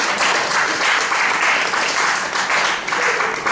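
An audience in a French-speaking church congregation breaks into steady, dense applause, sustained and fairly loud throughout with no pauses.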